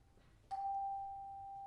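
A single hand chime struck once in a church, ringing out with a clear sustained tone that slowly fades, alone in a quiet room.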